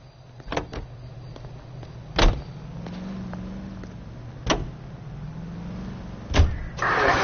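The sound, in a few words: car starting and driving in the video game L.A. Noire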